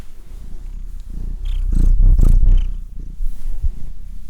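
A cat purrs up close in a low, rumbling rhythmic throb that swells louder near the middle, with soft brushing and scratching noises around it and no speech.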